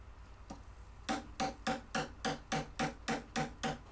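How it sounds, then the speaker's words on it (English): Glued pieces are hammered into a 1956 Gibson ES-125 Kalamazoo guitar: after one light tap, about ten sharp, evenly spaced strikes ring out in a quick steady rhythm, close and alone with no talking. "And hammer them in."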